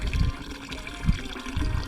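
Small stream of water flowing over the ground in the Nocui Valley near Illapel, Chile, a soft steady trickle close by, alone without voices.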